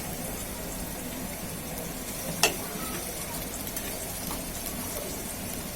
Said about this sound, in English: Now I will add ginger and garlic paste.